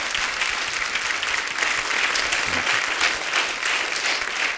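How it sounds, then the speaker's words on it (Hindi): Dense, loud applause from a studio audience at a Hindi comedy talk show fills the space for several seconds, an even wash of clapping without talk over it. "जोरदार तालियां हो जाए एक बार हमारे कलाकारों के लिए।"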